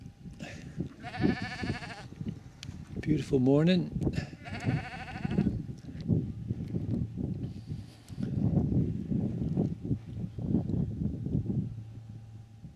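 Sheep bleating in a misty field in the morning, several loud nearby bleats early on, with a person speaking briefly and footsteps and outdoor rustling continuing afterward.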